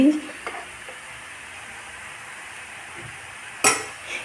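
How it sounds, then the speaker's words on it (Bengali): A spoon stirs boiled grated carrots frying in ghee for gajar halwa, a steady close sizzle with scraping against the pan and a sharp metallic clink near the end. "ঘি দিয়ে এখন নাড়াচাড়া"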